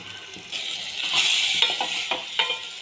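Potato curry for a Maharashtrian batata rassa being stirred in a hot pan, a steady close sizzle broken by a few scraping spoon strokes against the metal, with no voices.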